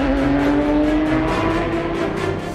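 Race cars roar past during the 24-hour endurance race at COTA in Austin, Texas. The engines drone loud and steady through the whole short burst, with no voices.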